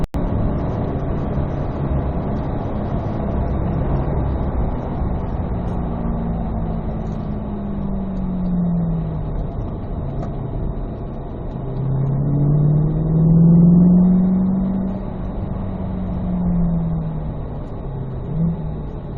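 Corvette Z06 cars on a Las Vegas race track rumble in the distance, an engine drone swelling and fading as the cars pass, then growing louder near the middle before easing off.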